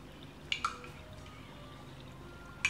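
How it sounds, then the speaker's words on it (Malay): Fresh coconut milk sweetened with a little sugar is poured over apam lenggang, giving a few soft, separate drips against a quiet background. "Tuang ke atas apam tu."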